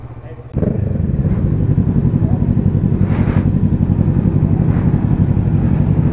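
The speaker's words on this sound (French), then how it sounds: "C'est le moteur de la Z, hein, du Z650." Kawasaki Z650 motorcycle engine starting up with a sharp onset, then running steadily with a throbbing, rumbling idle and light revving, loud and close.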